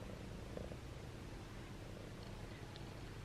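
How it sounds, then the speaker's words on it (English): Cat purring while lying on a lap with a second cat on top, a steady, close, low rumbling purr against faint background hiss, no talking. "I've now got one cat on top of the other cat"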